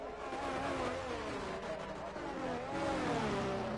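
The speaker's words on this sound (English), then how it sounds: "so I can hear the sound of the cars go by" Race cars in a racing video game drive by, their engines a steady, loud droning roar with shifting pitch as they pass, continuous and without talk.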